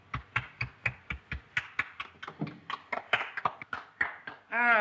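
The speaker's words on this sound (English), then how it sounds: "Applaud." A small group of dinner guests in a 1932 adventure film clap. A few crisp, evenly spaced claps lead into looser scattered clapping from several hands, fairly close and quiet, before a voice cuts in at the end.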